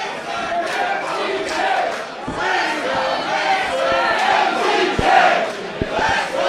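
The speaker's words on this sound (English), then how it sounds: "You hear that split in the crowd." Live independent wrestling crowd in a packed venue, roaring and chanting in a split, with uneven rhythmic surges of voices and a few sharp ring thuds and slaps cutting through.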